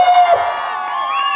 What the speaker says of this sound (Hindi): गजब की आपकी जो हुटिंग भी पीछे चल रही थी ना